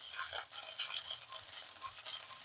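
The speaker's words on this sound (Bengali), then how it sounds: "আদা কাঁচা লঙ্কাটা ভাজা হয়ে আসছে" Ginger and green chili paste frying gently in a pan over low heat for aloo posto, giving a steady soft sizzle with light stirring scrapes, fairly quiet and close, with no talking.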